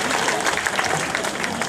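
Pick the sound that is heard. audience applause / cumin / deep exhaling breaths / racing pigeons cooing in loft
audience applause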